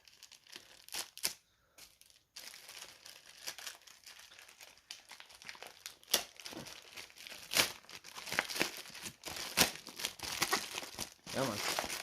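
A plastic bag of Lego minifigures is cut open and unwrapped, with bursts of close crinkling and tearing plastic, brief pauses between them, and a voice talking in between.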